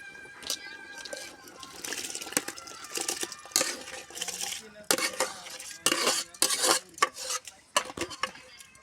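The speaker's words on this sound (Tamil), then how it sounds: "இப்போ அரிசி வந்து 1 மணி நேரம் நம்ம வீட்டில் சாதாரணமாக சாதம் வடிக்கிற அரிசி தான்" Soaked ordinary rice is tipped into a pot of boiling water and meat for biryani, then stirred with a metal spoon, giving irregular clinks, scrapes and watery splashes close up, with no talk.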